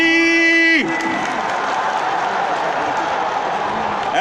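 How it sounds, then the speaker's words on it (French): A crowd at an evening religious gathering and speech in Burkina Faso breaks into loud, sustained applause mixed with cheers and whoops, right after a brief sung or held tonal note cuts off. "On va applaudir."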